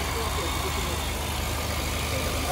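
A Honda Fit Twist automatic's engine idles steadily with a low, even rumble throughout, while a faint voice talks faintly in the background.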